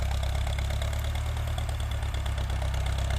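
A farm tractor, out ploughing a field after a storm, runs with a steady, loud, low engine drone and no pauses.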